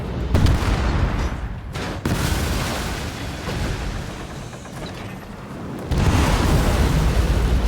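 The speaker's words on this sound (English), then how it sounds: "who is dropping bombs on us?" Bombs exploding in a video game battle, loud overlapping booms and rumbling blasts in close succession, with a short gap and then a fresh burst near the end.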